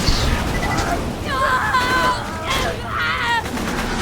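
Chefs firing guns in the Borderlands 2 video game, bursts of gunfire in uneven volleys amid game noise and voices, fairly loud and close.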